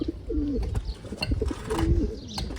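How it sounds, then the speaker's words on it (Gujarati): Pigeons cooing close by, several soft, throaty rolling coos repeating over low rustling and shuffling sounds. "આવું ચોકલેટી કબૂતર છે"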